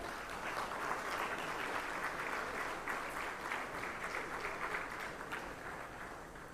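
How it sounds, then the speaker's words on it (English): Steady, dense applause from a large conference audience at a ministerial energy-sector panel, sustained and even for several seconds without a break. "Can we please have a huge round of applause?"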